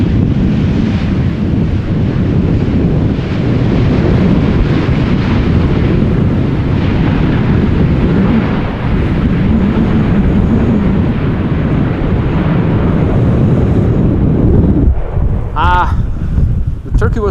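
Strong crosswind buffets the microphone at Amsterdam Schiphol Airport during stormy arrivals. It makes a loud, continuous low rumble with gusty surges and distant aircraft noise underneath, and brief sharp sounds near the end.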